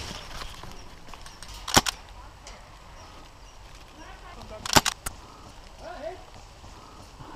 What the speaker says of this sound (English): with the semi-automatic fire I can put enough BBs on target to suppress them